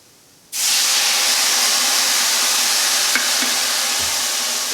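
Dry white wine such as Chardonnay or Pinot Grigio, half a cup, hits a hot pan of rice and erupts into a loud, sudden sizzle that holds as a steady, close hiss with faint stirring clicks.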